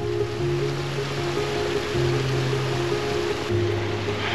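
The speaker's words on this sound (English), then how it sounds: "I'm thinking about climbing up the waterfall." A waterfall and mountain stream on the trail to Fay Lakes in Rocky Mountain National Park rush continuously, a close, loud, unbroken wash of water with a low hum beneath it.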